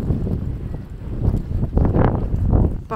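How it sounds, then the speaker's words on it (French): Strong wind buffets the microphone outdoors at Big Bend National Park in Texas, producing uneven, gusty low rumbling bursts throughout with no clear talking. "il y a beaucoup de vent"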